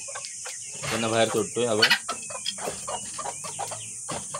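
Someone speaks over scattered hen clucks and a constant high insect drone in the background.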